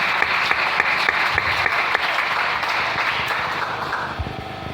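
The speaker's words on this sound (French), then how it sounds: "Est-ce qu'on peut acclamer pour le Seigneur?" A church congregation breaks into steady, loud applause that fills the room, a dense continuous clatter of many hands that tapers slightly at the end.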